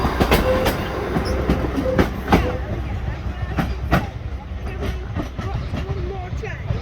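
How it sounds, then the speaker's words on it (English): A train passing through Shrewsbury station, close and fairly loud, wheels clicking rhythmically over rail joints with occasional squeal, while people talk nearby. "Yeah, watch one more train."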